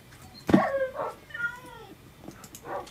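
A Minecraft cat meows several times in quick succession, fairly close and clear, with a longer wavering meow toward the end and no talking over it.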